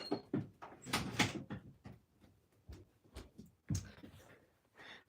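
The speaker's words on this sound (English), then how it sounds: "So let me shut the door." A door is pushed shut indoors, giving a quick run of soft knocks and clunks as it closes, fairly quiet and close by, with no talking.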